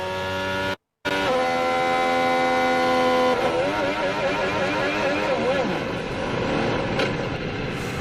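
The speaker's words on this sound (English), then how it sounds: "Let's just have a listen on board with Isaac Hadjar." Onboard Formula 1 engine of Isaac Hadjar's car at Albert Park, a loud, continuous multi-harmonic whine that climbs steadily in pitch through the gears, then wavers and drops as revs fluctuate, with a brief cut near the start.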